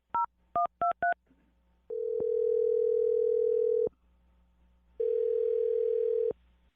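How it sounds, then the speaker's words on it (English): Four quick touch-tone telephone dialing beeps at different pitches, followed by two long steady ringback tones separated by a pause, clear and close on a phone line. "I'm dialing her phone number right now."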